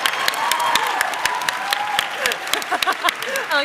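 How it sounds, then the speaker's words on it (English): Applause from a convention panel audience at PAX West 2024 in a theatre, a dense steady crowd clapping that fades out toward the end, with a voice heard faintly over it. "everyone go ahead and give Jenna's undercut a round of applause."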